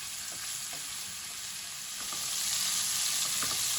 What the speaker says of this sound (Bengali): মিডিয়াম ফ্লেম করে হালকা করে মাংসটাকে আমি ভেজে নেব।